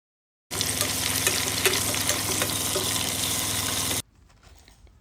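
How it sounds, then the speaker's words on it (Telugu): Sliced onions and green chillies fry in hot oil in a pan for a mutton curry, crackling and sizzling loudly up close for several seconds before the sound suddenly drops to a quiet background. "ఒక 2-3 ఉల్లిపాయలను వేసుకొని మంచిగా ఫ్రై చేసుకోవాలి గోల్డెన్ బ్రౌన్ వచ్చే వరకు"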